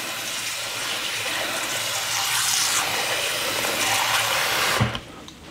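Water is poured into a container during meal prep, roughly 600 ml, a steady close rushing splash lasting about five seconds before it stops abruptly, with no talking.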